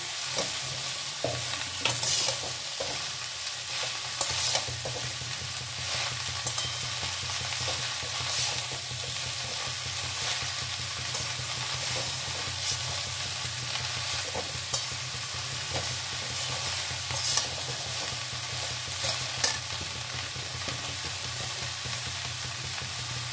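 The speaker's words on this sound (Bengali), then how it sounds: "এবার লাউটা এর মধ্যে অ্যাড করে দিলাম" Bottle gourd (lau) stirs and cooks in a pan for a lau sabzi, giving a steady soft sizzle with repeated scraping strokes throughout and no talking.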